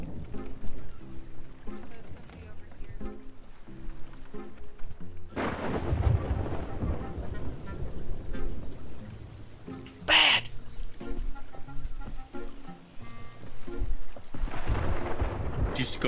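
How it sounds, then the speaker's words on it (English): Thunderstorm with rolling thunder and steady rain at sea in the Sea of Thieves game, a deep rumbling crash swelling midway over continuous rain, with a sharp burst of lightning crackle and voices of a crew talking intermittently. "we're gonna get struck by lightning"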